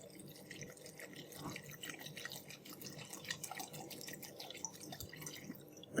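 Organic apple cider vinegar, about 400 ml, pouring into a large pot of lime pickle, making a steady soft trickle with scattered drips and splashes, fairly quiet and continuous, with no talking.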